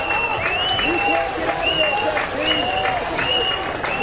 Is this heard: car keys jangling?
no